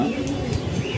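An old-breed tiger pigeon coos close by, a low throaty rolling call over a brief second, with faint chirps behind it.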